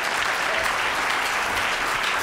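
An audience at an Asian Pacific American Heritage Month celebration breaks into steady, dense applause that fills the room evenly without pause, and no one talks over it.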